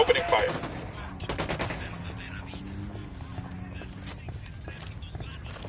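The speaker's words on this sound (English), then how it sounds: "I'm opening fire." Gunfire in the Ghost Recon video game: a quick cluster of sharp shots at the start, then the shooting fades into a low, rumbling battlefield ambience with faint voices.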